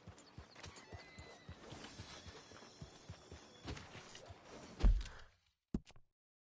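A horse in the video game Red Dead Redemption 2 gives a loud, drawn-out whinny over clopping hooves, followed by a short snort before everything falls quiet.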